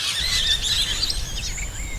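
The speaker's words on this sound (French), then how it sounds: "Les petits perroquets colorés sont des loriots arc-en-ciel" Rainbow lorikeets on Kangaroo Island, Australia, calling in a steady chorus of shrill chirps and screeches, with a continuous low rumble underneath.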